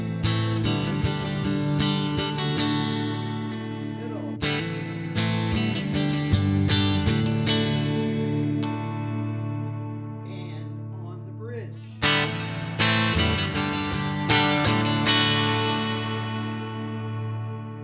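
Electric guitar built from a Stu-Mac Telecaster kit with Wilkinson pickups, played on the neck pickup through effects with distortion and chorus, sustained chords and picked notes ringing alone for the whole stretch.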